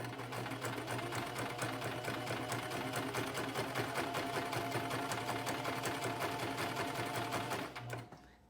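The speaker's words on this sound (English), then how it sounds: "Now we're going to sew an edge stitch, or just a simple straight stitch on the folded edge opposite of the zigzag, about 1/4 inch from the edge." A sewing machine stitches a straight edge stitch about a quarter inch from the folded edge of fabric for a face mask, humming and clattering steadily up close for about eight seconds before stopping.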